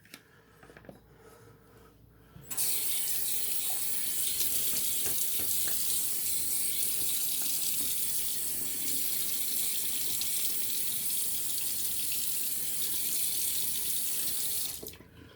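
Tap water pours steadily into a sink for about twelve seconds during a face rinse after a shave with a Gillette Parat razor, starting abruptly after a quiet moment and stopping near the end, loud and close with no talk.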